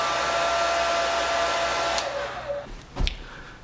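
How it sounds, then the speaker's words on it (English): Hair dryer on its coolest setting blowing over a freshly shaved dog, a steady close whooshing roar for about two seconds before it cuts off, followed by a few brief clattering knocks. "We're going to get the hairdryer and give him a good blow."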